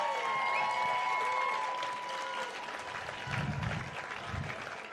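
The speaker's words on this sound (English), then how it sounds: "Big cheer." A crowd at a post-race IRONMAN 70.3 press conference claps and cheers loudly at first, the applause tapering off while a tonal sound lingers and fades, then low voices murmur near the end.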